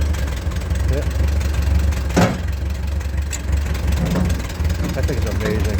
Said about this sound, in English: Tractor runs great.